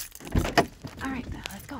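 A bunch of keys jangles briefly in a hand beside a van, a few close metallic clinks and rattles lasting under two seconds, with someone speaking around them.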